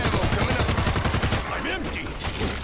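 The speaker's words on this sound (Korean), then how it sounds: "유리 쏘고 있어서" Rapid gunfire in the zombie shooter World War Z, a dense rattling burst of repeated shots that slackens partway, with a voice talking over it.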